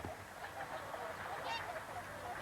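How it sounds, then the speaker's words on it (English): Whooper swans wintering at Martin Mere wetland, heard from inside a bird hide: a steady chorus of honking, goose-like calls at moderate distance, overlapping continuously with no talk. "The hooper swans come from Iceland to winter here at Martinmere"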